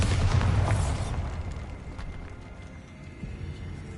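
The Bombarda spell erupts in Hogwarts Legacy, a single loud deep blast at the outset that rumbles and fades into quiet catacomb ambience.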